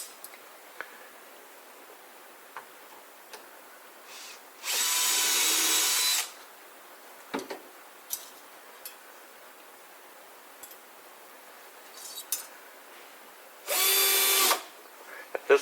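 A cordless power drill drives screws into a drawer slide in a quiet workshop, with two distinct whirring bursts of a couple of seconds each, separated by small ticks and clicks of handling the parts.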